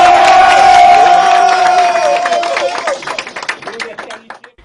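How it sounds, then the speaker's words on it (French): A television studio audience cheers and applauds loudly, the clapping fading out over a few seconds while a tonal sound hangs over the start. "applaudissez pour vous-même"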